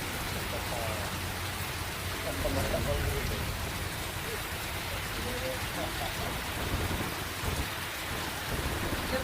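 Heavy monsoon rain pours down over the Purna River area in Dang, a dense, loud, continuous roar of falling water with low rumbles beneath.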